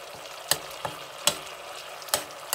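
Butter simmers in a pot while being clarified into Ethiopian niter kibbeh, milk solids separating, giving a steady soft sizzle with periodic sharp pops and crackles, close and moderately quiet, no talk.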